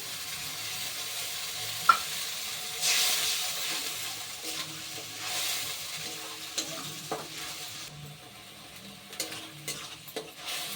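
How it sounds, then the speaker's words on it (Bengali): A paste of onion, ginger, garlic and chilli fries in a pan with a splash of water. It makes a soft, steady sizzle with hissing bursts, broken by the occasional scrape and clink of stirring. "মশলার বাটিটা ধুয়ে সামান্য একটু জল দিয়ে দিচ্ছি"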